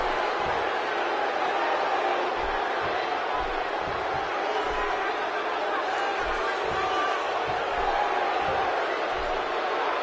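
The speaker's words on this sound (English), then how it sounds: "Another electric crowd on hand here for SmackDown, as has been the norm over the years." At a SmackDown wrestling event in the video game WWE 2K16, an arena crowd keeps up a steady, distant cheering roar, punctuated by low thuds of impacts in the ring.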